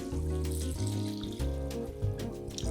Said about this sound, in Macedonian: ќе му додадам директно внатре вода